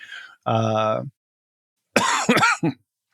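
A short hum-like tone, a pause, then a harsh burst of coughing, close and loud, ending with one smaller cough.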